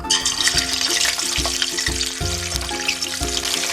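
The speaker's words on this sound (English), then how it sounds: "let's fry until our fish are fully cooked" Mackerel seasoned with salt frying in a pan, a continuous crackling sizzle with a rhythmic knocking pulse underneath, fairly loud and close with no speech.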